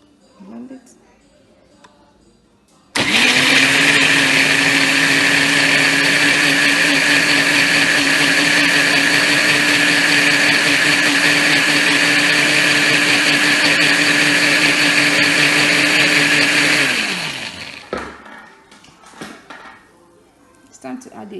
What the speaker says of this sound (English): Cover it and blend.